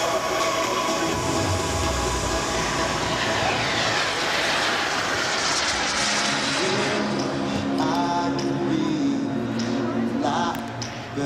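An RC model BAE Hawk jet in Red Arrows livery, powered for formation aerobatics, roars overhead with a sustained turbine whine that rises and sweeps past, loud and continuous across the whole stretch.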